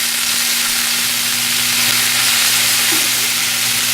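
Green beans sauté with mushrooms and bacon in a hot pan, giving a loud, continuous sizzle with faint stirring and no voices.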